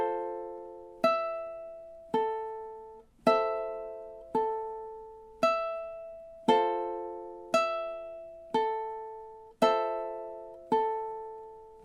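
Ukulele melody from a song, played as about ten evenly spaced plucked notes with chord tones, each one decaying before the next, close and steady with no talking.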